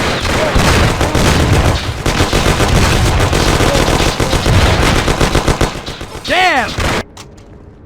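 Dense rapid gunfire in the game Mafia: The City of Lost Heaven, loud overlapping bursts of automatic fire and shots for several seconds, with a shouted voice and a rising whistling sound near the end before it cuts off.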